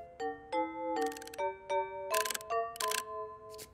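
A kitchen oven timer being set, giving a quick run of bright electronic beeps and chimes, each tone stepping to a new pitch, some with a short rattling burst, close and clear with no talk.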